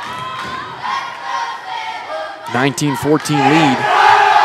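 A high school football team cheers and chants loudly in a gym during a volleyball match, with bursts of shouting voices rising over an announcer's talk.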